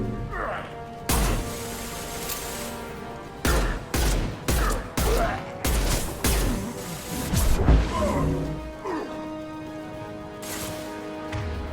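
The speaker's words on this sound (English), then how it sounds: "Firing an impact shot!" Repeated sharp weapon blasts from an impact shot in Mass Effect 2 combat, several loud bursts in a row with crashing impacts and a voice calling out between them.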